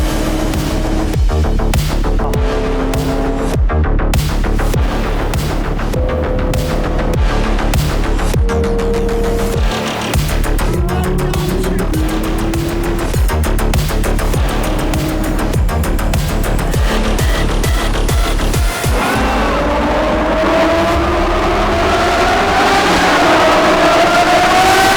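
A car drives through a tunnel, engine rumble echoing loudly throughout with shifting pitch and a rising rev near the end.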